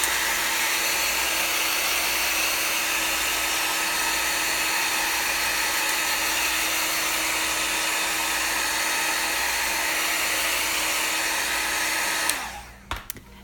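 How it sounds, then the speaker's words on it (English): A heat gun blows steadily with a loud, even whirring hiss at close range, running continuously before cutting off near the end with a few clicks and knocks. "Sorry for the heat gun noise."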